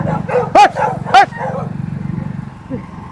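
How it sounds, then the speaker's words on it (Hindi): Two sharp, loud dog barks ring out close by at night over a steady engine hum, followed by quieter rumbling and a faint yelp near the end. "कुत्तों से डर नहीं लगता आपको रात में?"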